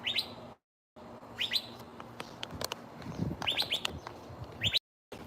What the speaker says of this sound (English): You see all the birds, guys?